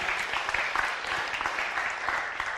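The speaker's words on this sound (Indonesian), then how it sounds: "Tepuk tangan dulu." An audience gives dense, steady applause with many hands clapping together, moderately loud and continuous throughout.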